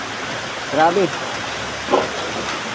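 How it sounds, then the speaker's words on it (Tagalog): Heavy rain pours down in a steady, dense hiss that fills the whole clip, with two short exclamations from a person cutting in over the downpour. "Lumakas ang ulan"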